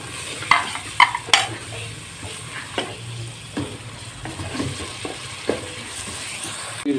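Spices are stirred and fried in a pot for matar biryani, with a spoon scraping and knocking against the pot several times early on over a soft, continuous sizzle.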